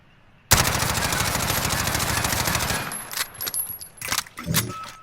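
A long sustained burst of rapid automatic gunfire from a rifle fitted with a TAC foregrip in Call of Duty Modern Warfare, loud and close, starting abruptly and then giving way to a few scattered shorter bursts and clinks.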